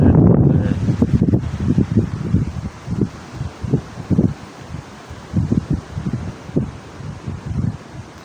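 Wind sweeps through leafy trees outdoors, with rustling branches and leaves and a steady gusty wash in the background, rising and falling in soft bursts.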